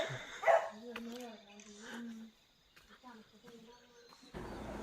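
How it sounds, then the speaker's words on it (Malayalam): A dog near a lakeside campsite tent in Munnar gives a few faint barks and whines, close by, with someone talking nearby. "ടെൻറ്റുള്ള അടുത്ത് ക്യാമ്പിങ്ങിന് എവിടെ പോയാലും കാണുന്ന ഒരാളാണ് പട്ടി"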